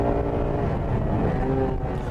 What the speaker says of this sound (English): And the engine is still running strong.